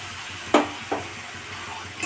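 Salted Bombay duck fish dropped into a pan with green chillies and chilli powder, with a soft sizzle and two quick splashy bursts as the pieces land, close and unvoiced.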